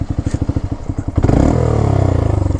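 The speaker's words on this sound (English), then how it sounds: "Ooh, new exhaust." A 2022 Honda Grom motorcycle with a new exhaust idles with a loud, lumpy pulsing exhaust beat, then revs up into a deep, continuous roar close by.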